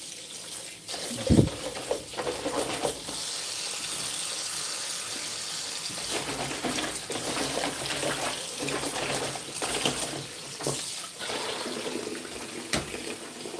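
Ginger washed under a running kitchen tap, a steady splashing stream of water hitting the root and sink with small shifts in flow throughout.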